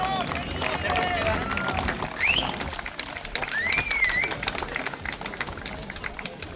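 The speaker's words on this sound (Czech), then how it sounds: "poprosím ještě jednou potlesk" Crowd clapping at an awards announcement for a grilled suckling pig contest in Vracov, a steady patter of many hands with a few shrill whistles, a voice talking faintly beneath.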